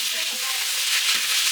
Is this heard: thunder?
no